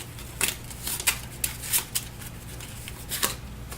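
A stack of Eldritch Horror encounter cards is riffle-shuffled by hand at close range, with about eight crisp, evenly spaced bursts of fluttering card noise.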